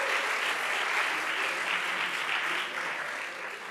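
Applause from an audience at a university postgraduate research event, a dense, steady wash of clapping heard at some distance, fading slightly toward the end.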